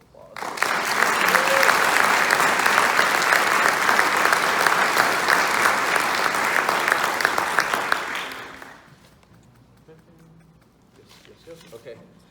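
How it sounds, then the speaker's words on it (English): Applause for a retiree at a military retirement ceremony, loud sustained clapping from the gathered audience for about eight seconds before fading into quiet room sounds and murmurs. "I think she deserves a round of applause."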